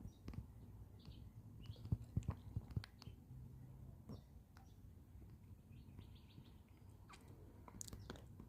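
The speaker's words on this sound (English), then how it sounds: "the first bird that I heard was actually a willy wagtail" Birds call at dawn in November, among them a willy wagtail, with sparse chirps and tweets scattered over a quiet, low rumbling background.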